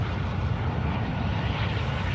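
An aircraft drones steadily in Call of Duty: Warzone 2, a loud, dense engine rumble with no breaks, likely the helicopter.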